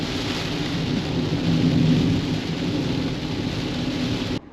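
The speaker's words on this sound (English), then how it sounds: "It started raining!" Steady heavy rain pours down in a continuous wash of noise, loud and close, swelling slightly midway before cutting off abruptly.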